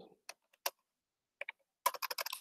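Typing on a computer keyboard while writing PHP code, with a few scattered single key clicks and then a quick close burst of rapid keystrokes, no talking.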